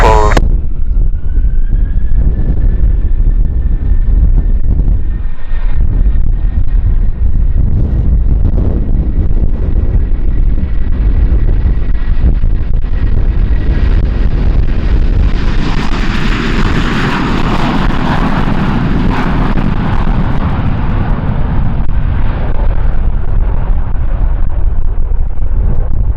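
A China Airlines jet taking off from Kagoshima airport in heavy wind, with a loud, continuous engine roar swelling over steady wind buffeting on the microphone and a rising whine, no speech.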